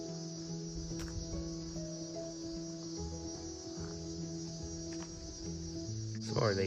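Cicadas buzz in Girraween National Park in Queensland, a steady high-pitched drone that runs continuously at moderate volume in open rocky bushland, with faint rustles and footsteps underneath.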